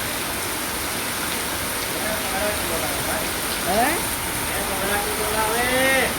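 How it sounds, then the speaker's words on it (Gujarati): Steady rain pours down in a Gujarat village, a dense, even hiss close by with a few faint chirping sounds over it. "જો મેં વરસાદ આવી ગયો હે જોઈ લો"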